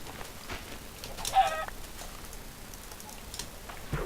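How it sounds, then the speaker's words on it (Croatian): Minecraft chickens cluck in short, faint bursts over a steady background hiss from the game, with light ticking clicks scattered throughout. "Ok, kokoši, treba zbog perija."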